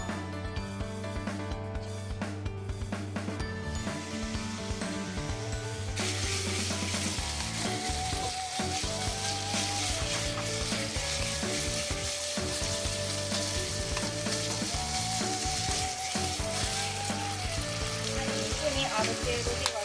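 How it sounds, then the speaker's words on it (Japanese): Pork sizzles and fries in an oiled frying pan as the first step of yaki udon, a steady crackling hiss that jumps louder once the meat goes in, with a voice speaking over the cooking. "はい、じゃあうちは先に豚肉を炒めます。"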